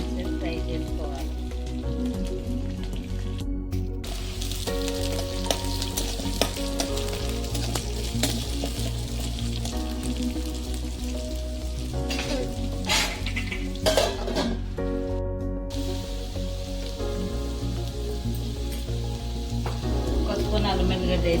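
Mustard seeds, green chillies and curry leaves fry in a pan with a steady close sizzle and crackle, while occasional utensil clinks and stirring scrapes sit on top of it.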